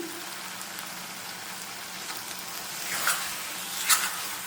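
Mutton liver curry being stirred in a pan after curry leaves and green chillies go in, a steady soft sizzle with a couple of brief scraping stirs standing out near the end.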